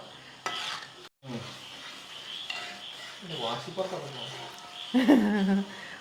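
A spoon stirs sago payasam with coconut milk in a pan, giving soft scraping and sloshing strokes with light clinks of metal against the pan, under steady talk nearby.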